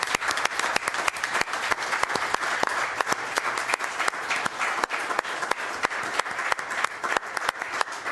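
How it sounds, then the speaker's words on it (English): Clapping at a Glendale city council meeting as the room applauds volunteers. A steady round of applause from a modest crowd continues unbroken for several seconds, with individual claps audible close by. "can we just have a round of applause for the volunteers who have come forward?"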